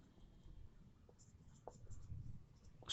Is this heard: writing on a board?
yes